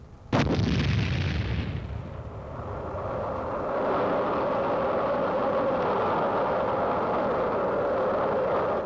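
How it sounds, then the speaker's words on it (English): Howitzer somewhere in Korea firing on an enemy outpost: one sharp, loud blast followed by a long rolling rumble and sustained low roar lingering for several seconds, no voices. "howitzer somewhere in Korea lobbing out a few rounds to take care of an enemy outpost"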